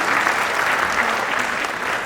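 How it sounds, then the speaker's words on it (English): A large audience applauding after a keynote presentation, with dense, steady clapping filling the hall, loud and sustained throughout, with no pauses. "A big round of applause for Devika Narain"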